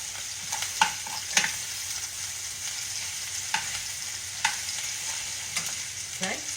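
Cabbage and onion frying and caramelizing in a pan, a steady loud sizzle throughout, broken by several stirring scrapes and clinks of a utensil against the pan, close up with no talking.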